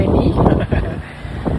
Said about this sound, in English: The wind is very windy.